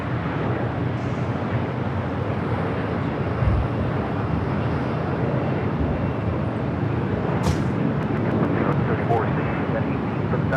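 A 32-year-old ex-Northwest Airbus A320 on Delta Airlines flight 692 departs LAX for Austin, its jet engines giving a steady, broad, continuous roar from start to finish with wind buffeting.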